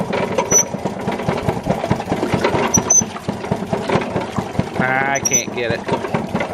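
A Maytag Model 92 gas engine powers a Maytag 90 washing machine's agitator, chugging in a steady rapid putter up close, with someone speaking briefly over it.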